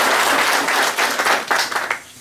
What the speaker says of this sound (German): Für diese zwei Paar einen Applaus